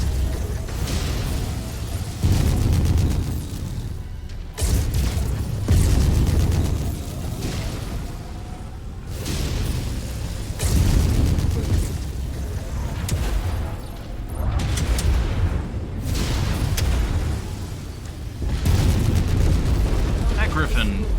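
Repeated missile explosions in a MechWarrior battle, heavy booming bursts arriving every few seconds in a rolling sequence, loud and close, with a voice speaking between some of them.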